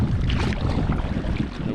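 Gusty wind buffets the microphone on a river at Lamprey Rapids while canoeing, a loud, continuous roar with rushing water underneath and no voices.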